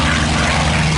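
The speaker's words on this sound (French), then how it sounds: "Le moteur qu'il y a là-dedans est un moteur en double étoile," A propeller warplane from the 1950s with a Wright twin-row radial engine takes off at a Gap-Tallard air show, a loud, dense, continuous engine roar close by with no voices.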